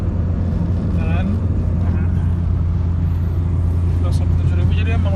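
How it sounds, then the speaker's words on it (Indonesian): A 1990s Toyota Corona Absolute fitted with a racing exhaust idles nearby with a steady low rumble, while someone talks over the engine throughout. "Untuk suara udah pakai knalpot racing"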